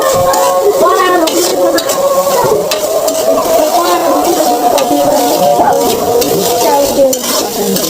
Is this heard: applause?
no